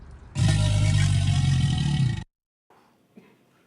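An alligator's mating-season bellow: a single loud, deep, rumbling roar held steadily for about two seconds, then cut off abruptly, followed by faint low background sound.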